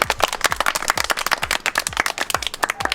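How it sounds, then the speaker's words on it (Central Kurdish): A group clapping in a village setting, loud, close and rhythmic, with sharp claps landing in a quick, fairly regular pattern throughout. "یەک چەپڵە بۆ ڕوویە"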